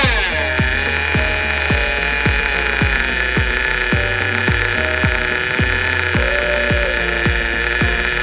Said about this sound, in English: We're now able to crack the throttle and RPM will increase without bogging down.